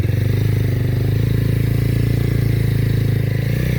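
A motorcycle engine drones steadily with a low, throbbing rumble, close and loud, holding a constant pace without revving up.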